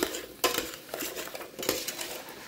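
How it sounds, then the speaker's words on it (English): A metal spoon clinks and scrapes against a pot as salt is stirred into Polish bean soup. A few distinct knocks stand out amid soft stirring, close up with no talking. "Next, we're going to add in our salt and stir."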